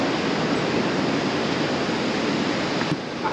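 The Bhagirathi river rushes past a riverside tent in Uttarakhand as a loud, steady wash of flowing water, constant and close throughout.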